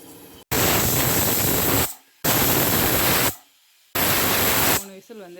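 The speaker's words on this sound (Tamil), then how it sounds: "விசில் வந்துருச்சு." A pressure cooker whistle releases steam in three loud, close bursts of harsh hissing, each lasting over a second and separated by short gaps. A voice comes in briefly at the end.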